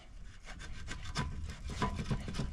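A long-neglected vice grip clamped onto a tight, stuck part on an old golf cart and worked loose, giving close, repeated scraping and rubbing strokes at a steady level with no speech.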